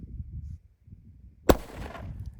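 A single sharp bang from a soccer-ball firecracker cracks out suddenly over low rumbling background noise, followed by a brief fading echo.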